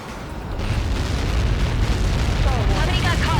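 A massive explosion booms in the aerial combat video game Ace Combat 7, where a Helios projectile strike lands. The blast swells into a loud, sustained roar, and radio voices talk over it.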